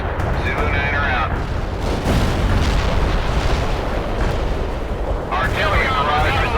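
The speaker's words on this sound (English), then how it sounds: "Artillery barrage resulted in no enemy casualties." Heavy artillery barrage in World in Conflict, with explosions thudding and rumbling in a loud, overlapping stream, punctuated by sharper bursts and faint radio-style voices underneath.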